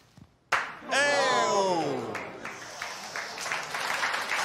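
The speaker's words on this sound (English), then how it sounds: "You're applauding" Audience applause and clapping at a live science show, rising abruptly and holding steady as a dense wash, with a voice and a dog-related sound moment audible over the start.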